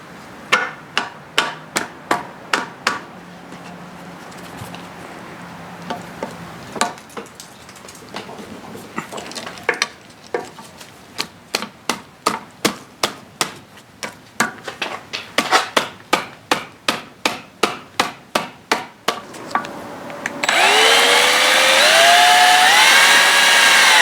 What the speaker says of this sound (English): I'm going to try to use a pair of pliers and just pry it up that way